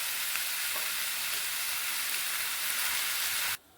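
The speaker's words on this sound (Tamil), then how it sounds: "எல்லாமே வதக்க வச்சிடலாங்க" Garlic, ginger and curry leaves sautéing in a pan for mutton kulambu, a loud continuous frying hiss that stops abruptly near the end, no talking.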